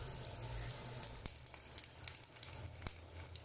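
Onions frying in hot oil in a pan give a steady, soft sizzling hiss with scattered faint crackles and a couple of sharper pops, heard alone without speech.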